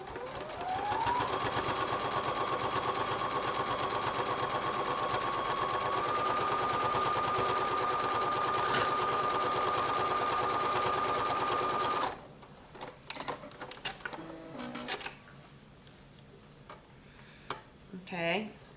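A sewing machine runs steadily for about twelve seconds, stitching rag quilt squares together with a 1/2 inch seam, its motor humming close and loud, then it stops and quieter handling and rustling of fabric follows.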